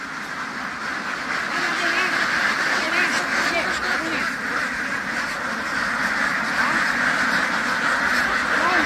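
Itik ducks being unloaded from a truck, a large flock quacking loudly and constantly in a dense, close chorus that holds steady throughout, with people talking underneath.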